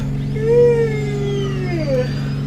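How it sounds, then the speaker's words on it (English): A strange whining tone slides upward and then drops over a steady engine drone as the landing gear of a Grumman G-21 Goose retracts in Flight Simulator X. "Got a very strange noise when you put the gear up."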